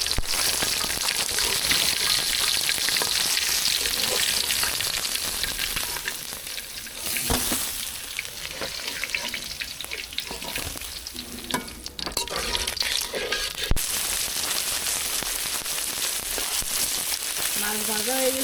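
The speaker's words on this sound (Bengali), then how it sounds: "মাছ এগুলি ভাজা হয়ে গেছে, এখন উঠে নেব। বেশি একেবারে কড়া ভাজা করবো না।" Katla fish fries in oil in a pan for a fish curry, a steady loud sizzle with occasional stirring scrapes and crackles throughout, no voices.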